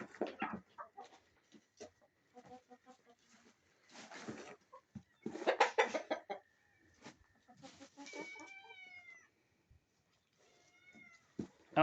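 Baby kittens meow in thin, high, rising calls scattered among clucking chickens in a quiet farm setting, the sounds coming in short bursts with gaps of near silence between them.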